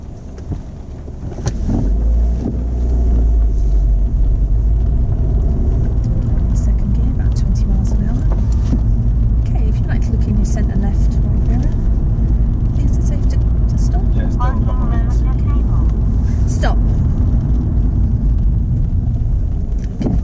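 A car moves off slowly and drives along in second gear at about 20 mph, its engine a steady low drone under wind buffeting on the microphone, with people talking over it.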